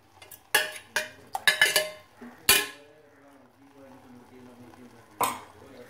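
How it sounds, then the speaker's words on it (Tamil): Marinated chicken with ginger and garlic stirred into sautéed tomatoes in a pan, a run of sharp spoon-on-pan clinks and scrapes early on, then quieter stirring with a few later knocks. "அப்படியே ஊற்றி நம்ம இதை நல்லா ஒரு கிண்டி கிண்டி விட்டுடலாம்"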